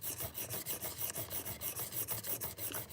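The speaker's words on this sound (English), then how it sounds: "we're just sharpening our Azula" Azula knife being sharpened, a quick regular series of rasping, rubbing strokes, close and fairly quiet, with no talking.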